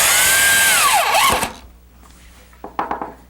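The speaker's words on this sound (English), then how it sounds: "You take a short screw, bring it into the bottom of the L-girder lip," A power drill drives a short screw up through an L-girder lip into a wooden benchwork joist, a loud whirring burst whose pitch sags as it seats, then a few sharp taps and clicks afterward.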